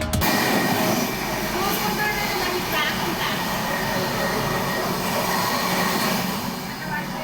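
Superfast train running on the Mangaluru route, a steady loud rumble of wheels on rails with faint metallic squeal, sustained throughout.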